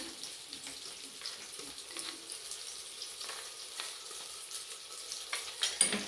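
Soft, continuous frying sizzle with light crackles as ginger-garlic paste fries in a pan with bay leaves, faint and close, with no voices.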